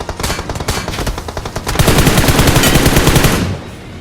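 Loud, rapid automatic gunfire rattles in a battle royale video game fight. Fast bursts are followed by a denser, sustained stream of shots that ends abruptly near the close.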